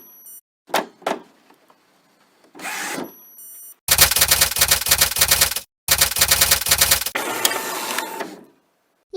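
A Brother WP-80 typewriter word processor prints in two loud, rapid mechanical bursts of clattering strikes, separated by a brief pause, preceded by a few scattered clicks and carriage movements.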